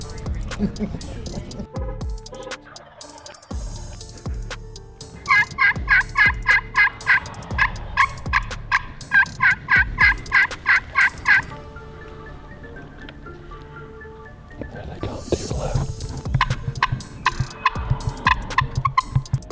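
Wild turkeys gobble repeatedly in bursts from a road in Kentucky, a series of loud rhythmic gobbles near the recorder, pausing and then resuming, with some background activity.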